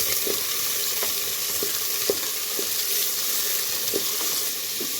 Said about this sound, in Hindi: अब प्याज को लाइट गोल्डन ब्राउन होने तक अच्छे से फ्राई करेंगे